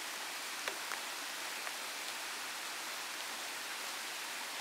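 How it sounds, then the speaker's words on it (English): A rain-swollen Cotswold stream rushes steadily in a broad, even wash of water noise, constant and fairly close, with a few faint clicks scattered through it. "you can see here now how this rain has swollen the stream"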